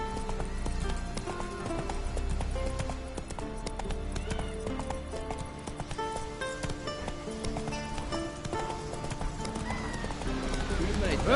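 Horse hooves clip-clopping at a steady trot in The Witcher III, running continuously under game music with occasional voices and a whinny.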